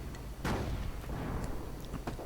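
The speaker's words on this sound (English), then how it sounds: "managing to attract an awful lot of German anti-tank gunfire" German anti-tank guns fire in a World War II strategy game, with a heavy boom followed by further distant cracks and rumbling battle noise throughout, no voices.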